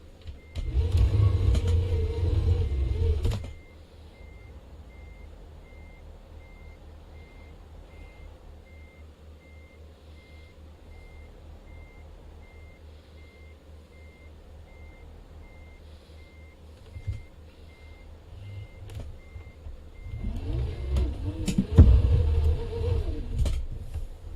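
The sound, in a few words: truck reversing to park a trailer, reversing beeps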